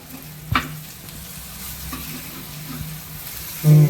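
Plantain masala fry cooking in a pan over a low flame, giving a steady soft sizzle with a couple of brief stirring knocks and a louder burst near the end.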